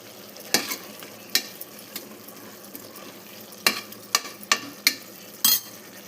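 Food frying in a pan with coriander leaves makes a soft, steady sizzle, broken by sharp spoon scrapes and taps against the pan at irregular intervals, close up and with no talking.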